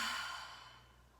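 A single deep, audible exhale during a seated neck and shoulder relaxation exercise, a soft breathy sigh close to the ear that fades out gradually over about a second.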